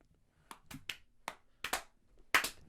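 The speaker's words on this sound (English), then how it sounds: "Three claps for Lewis coming on" Hosts on a podcast give a few separate hand claps, about six sharp, close claps spread unevenly over a couple of quiet seconds.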